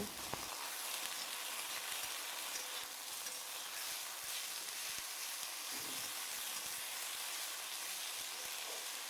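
Drumstick flowers (sajne phool) frying in a pan with a little sugar and turmeric give off a quiet, steady sizzle, soft and even, with occasional faint stirring ticks.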